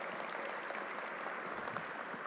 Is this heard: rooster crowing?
no